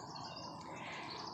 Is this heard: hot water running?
no